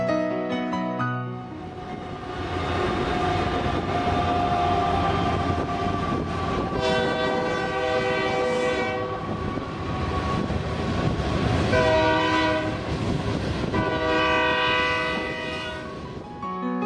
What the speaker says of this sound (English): freight trains roll by frequently just beyond the old platforms